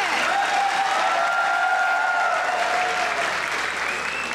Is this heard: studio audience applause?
yes